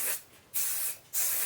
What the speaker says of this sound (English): what I'm going to do is I'm going to do my finishing spray